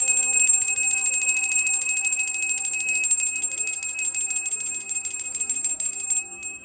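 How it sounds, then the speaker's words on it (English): A small bell rung for good luck gives bright, sustained metallic ringing with rapid repeated strikes, steady and close, fading away at the end with no talking. "I'm gonna ring my bell to bring in some of that good luck"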